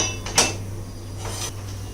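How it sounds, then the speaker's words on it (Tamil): Two heavy metal clanks as cast iron pans are set down, one sharp near the start and a softer one after a pause. "இப்போ நம்ம விளக்குன பாத்திரம் எல்லாத்தையும் இதில் எடுத்து வச்சிடலாம்"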